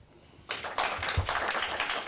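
Audience applause at a network launch ceremony in Mali: clapping starts suddenly from quiet and continues as a steady, dense patter of many hands, moderately loud.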